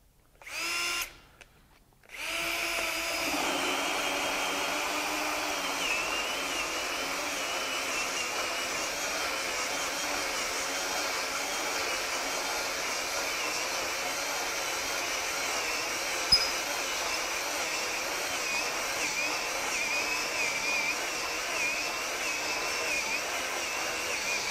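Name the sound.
Ridgid R96021 drill with 2-inch hole saw cutting through 2x4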